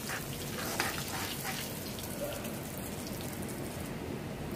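Ajwain (carom seeds) fry in hot oil while bhindi is being cooked, giving a steady, soft crackling hiss that carries on evenly with no talk over it.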